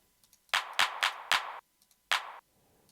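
Roland 909 drum machine clap sample layered with a 707 snare, sounding as five sharp, close handclap-like bursts with short noisy tails, four in quick succession and one after a brief pause.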